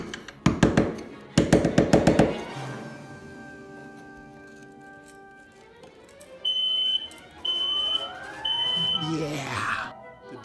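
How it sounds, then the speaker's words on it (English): A smoke alarm sounds three high, sustained beeps in a row after some clattering knocks and a ringing tone, with faint rustling at the end. "don't be surprised if the fire alarm goes off"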